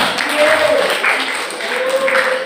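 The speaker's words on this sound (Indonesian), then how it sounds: "Tepuk tangan dulu untuk materi kita." A short burst of clapping from a seminar audience, with voices carrying over the top of it.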